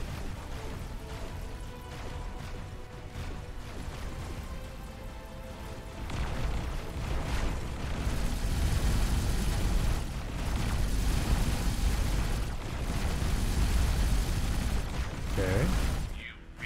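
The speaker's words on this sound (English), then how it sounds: "Explosion imminent." A destroyed ship segment explodes in a space combat game: sustained rumbling booms and crashing debris that swell louder midway, with a final sharp burst at the end.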